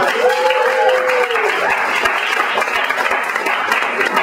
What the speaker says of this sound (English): you in the audience, give yourselves a round of applause